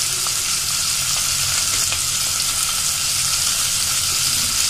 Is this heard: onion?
yes